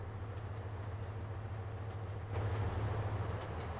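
Locomotive in Trainz Simulator 2 heard from the cab, with a steady low engine drone and faint rail clatter that swells slightly louder partway through.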